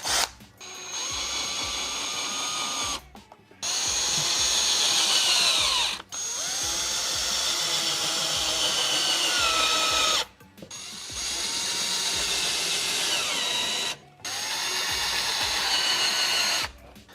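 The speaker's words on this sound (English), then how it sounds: "grab some screws, grab your drill and drill them in" A power drill driving screws into the front lip splitter of a 2022-up Subaru BRZ, four close, loud whirring bursts of a few seconds each, divided by short pauses and clicks.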